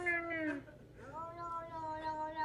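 A frightened cat yowls in drawn-out, wavering cries, two long rising-and-falling calls with a short break between them, fairly close and alone.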